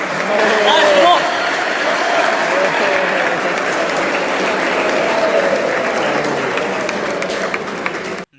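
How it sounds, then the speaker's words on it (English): Steady, loud clapping from a school quiz-competition audience in Dehradun, continuous and even for about eight seconds with crowd murmur mixed in, ending abruptly. "Come on everyone, clap for it."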